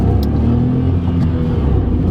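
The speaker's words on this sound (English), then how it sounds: "Oh, I love the tone of a 3-cylinder." A new Dacia Sandero BiFuel's three-cylinder engine pulling hard under acceleration, a loud, close, steady low drone with rising harmonics, no voices.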